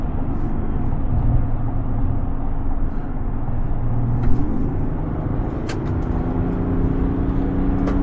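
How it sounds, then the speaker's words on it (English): A 2025 GMC Sierra 1500 Elevation Premium pickup with a diesel engine drives along, giving a steady loud low engine drone and road rumble heard from inside the cab, with no talk. "Since it's a diesel, it makes a little bit of a noise, more than a V8 engine"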